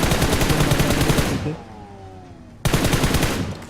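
Loud, close automatic gunfire from a battle royale video game, with long rapid bursts broken by a short pause before another burst; no speech.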